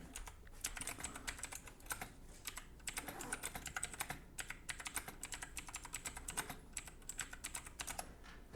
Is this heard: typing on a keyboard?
yes